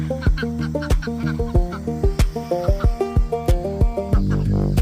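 A string of rhythmic, nasal squawks repeating about twice a second, close and loud, from a group of birds with no voices among them.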